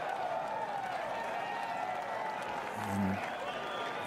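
A golf gallery in Austin breaks into sustained applause and cheering at a match play event, a steady wash of clapping with a commentator talking over it.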